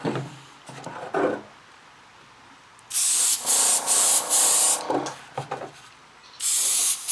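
An airbrush sprays red paint onto a model body in close bursts of hissing spray, a long steady pass in the middle and another at the end, with quiet pauses between.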